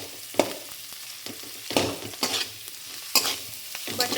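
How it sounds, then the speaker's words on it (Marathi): Potato pieces for sabudana khichdi being stir-fried in a pan: a quiet sizzle broken by irregular spatula scrapes and clatters, close up, in uneven bursts. "असा बटाटा छानपैकी मस्तपैकी परतून घ्यायचा आहे"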